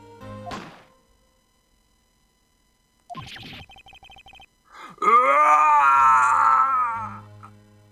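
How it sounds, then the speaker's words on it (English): Von Karma lets out a long anguished scream in the video game Phoenix Wright: Ace Attorney. It follows a sharp hit and a short beeping pattern, then the drawn-out wailing cry fills several seconds, loud and close. "It's that scream I heard in the elevator."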